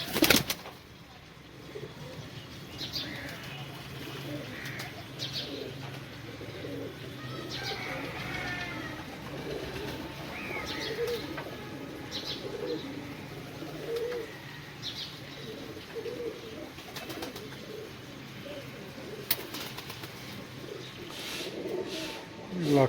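Pigeons coo softly again and again, close by in a loft where the birds are kept and a hen sits on eggs, with scattered chirps and wing flutters and someone talking at intervals.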